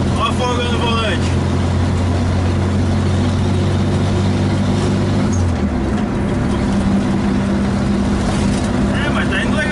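A Volkswagen Kombi van's engine runs steadily while the van drives, a loud close rumbling drone with a shift in pitch midway, as people talk over it inside.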